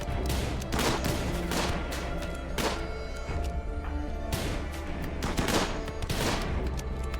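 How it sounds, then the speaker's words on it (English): Colonists trading gunfire in the RimWorld video game: dense bursts of shots and thumping impacts, rapid and overlapping, loud and continuous across the whole stretch with no talk. "Shoot Gregory."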